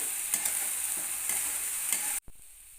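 Ginger, garlic, tomato and green chili paste sautéing with onion on low heat, a close steady sizzle with rhythmic stirring scrapes that cuts off abruptly near the end.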